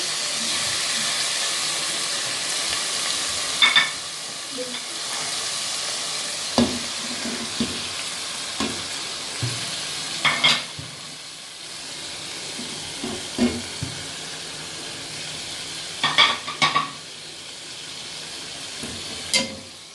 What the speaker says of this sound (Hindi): इसको थोड़ी देर आपने फ्राई करना है। ये देखें फ्राई हो जाएगा